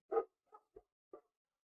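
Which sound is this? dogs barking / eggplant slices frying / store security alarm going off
dogs barking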